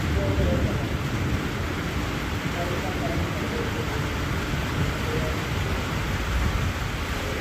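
Steady, dense hiss of rain falling continuously during a thunderstorm, loud and close, with no breaks across the whole stretch.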